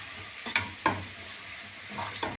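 Onions and chili frying in a pan for brinjal thokku are stirred with a spoon. The oil sizzles steadily and several sharp scraping strokes are heard up close, with no talking.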